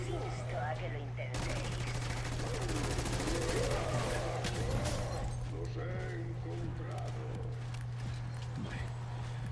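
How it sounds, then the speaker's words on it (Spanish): A full magazine is emptied in Call of Duty: Black Ops 6, a rapid burst of loud automatic gunfire lasting a few seconds, then scattered game noise and a steady hum, with a player talking throughout. "Disparamos un cargador ahí a la cabeza"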